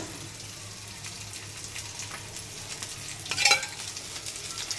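Rava-coated bangda fish fry in oil in a pan with a little extra oil poured at the side, giving a steady close sizzle and a brief louder crackling burst near the end, with no voices.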